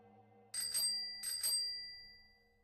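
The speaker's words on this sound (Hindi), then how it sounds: "एक पुरानी साइकिल की घंटी की आवाज आती है।" An old bicycle bell rings twice in quick succession, two bright metallic dings close up, each fading out in a short ring against a quiet background.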